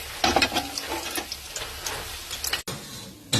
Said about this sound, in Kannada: ಎಣ್ಣೆಲಿ ಅಷ್ಟು ಬೇಯಿಸಬೇಕು, ಯಾಕಂದರೆ ಉಂಡೆ ಹೊಡೆದೋಗಲ್ಲ